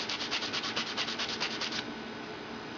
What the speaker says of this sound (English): The next thing I'm going to do is just lightly sand the surface here.